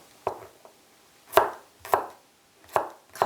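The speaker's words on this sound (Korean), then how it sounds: "가급적이면 얇게 썰어주세요." Vegetables for dongchimi being thinly sliced with a knife on a cutting board: five sharp, distinct chops at an uneven, unhurried rhythm, close and clear against a quiet background.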